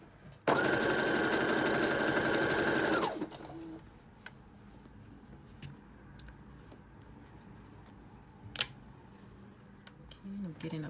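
A sewing machine runs a zigzag stitch on a tee in one loud, steady whirring burst of about three seconds, followed by quiet room sound, a sharp click and soft handling noises.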